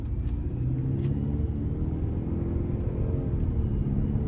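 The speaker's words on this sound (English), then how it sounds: "It's just a very refined Turbo 4. The sounds are good, the overall drivability is nice." A 2025 GMC Sierra 1500 Pro with the TurboMax turbocharged four-cylinder engine drives steadily, giving a loud, constant low engine drone and road rumble from inside the cab with no talk.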